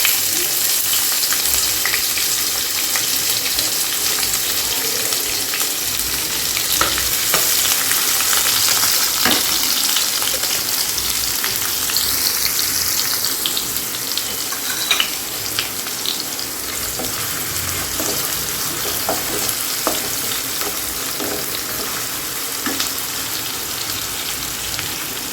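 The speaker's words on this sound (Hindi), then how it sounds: "तो हाई फ्लेम में प्याज को अच्छी तरीके से भून लेते हैं जब तक इसका कलर ब्राउनिश" Chopped large onions fry in a pan over a high flame, a steady broadband sizzle and crackle with occasional stirring scrapes, continuous and fairly loud with no voices.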